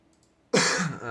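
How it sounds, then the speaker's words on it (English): A single harsh, raspy cough or throat-clearing bursts out close by after a moment of near silence. "Sorry for the coughs."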